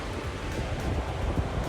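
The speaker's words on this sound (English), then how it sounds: "it's really windy here" Strong wind blows just below a mountain ridge, a loud continuous rushing roar with gusty swells buffeting close at hand and nothing else audible.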